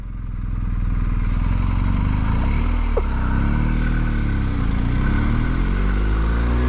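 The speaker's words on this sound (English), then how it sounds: "There we go, first quick shifter. There's a definite jolt first to second" A BMW R1250GS Triple Black motorcycle pulls away and accelerates hard, its engine note climbing loud and close with a brief break where a quick-shifter upshift cuts in, then continuing to build.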